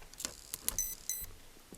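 Hobbywing Quicrun Mini24 brushless ESC emitting short, high electronic beeps during throttle calibration, several quick tones in an irregular sequence, faint and close, with no talking.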